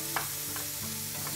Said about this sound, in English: you will add the prawns here. I have around some 150 grams of prawns. And we're going to stir fry this.